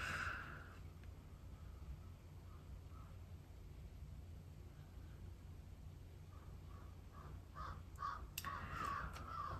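Crows caw faintly in the distance over a low background hum, with a few scattered calls early on and a quicker run of caws near the end.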